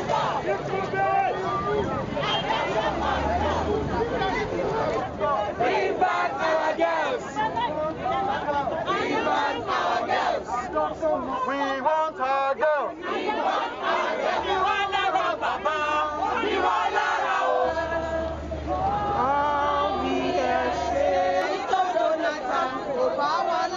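A crowd of protesters in Nigeria shouting, a dense clamor of many overlapping voices yelling and chanting continuously at close range.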